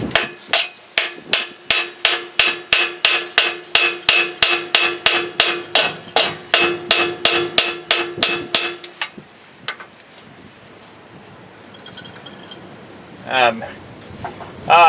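A hammer pounds a 2008 Chevy Suburban rear axle in a steady, rapid series of about two dozen ringing blows, then stops; faint rustling and a brief squeak follow.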